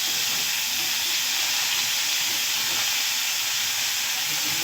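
Small chopped cauliflower pieces and diced new potatoes drop into hot oil, giving a steady, loud hissing sizzle that runs the whole time with no pause, up close and without any talking.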